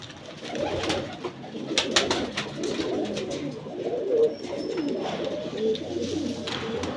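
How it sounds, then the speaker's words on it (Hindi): Pigeons coo in a low, continuous murmur, several birds overlapping steadily throughout, close by and fairly loud. "ये अब गोल्डन कबूतर है माशाल्लाह"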